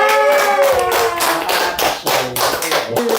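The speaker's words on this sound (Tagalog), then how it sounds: "Hindi, palakpak!" People clapping at a birthday party, a close, loud run of sharp hand claps and taps in an uneven rhythm, with voices and a sustained tone mixed in.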